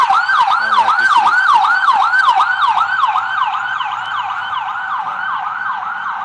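Loud ambulance and police sirens wail in a rapid, repeating rise-and-fall pattern as they pass, continuous and close, gradually easing slightly in volume.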